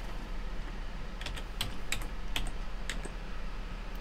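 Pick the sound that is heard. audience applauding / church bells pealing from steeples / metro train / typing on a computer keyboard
typing on a computer keyboard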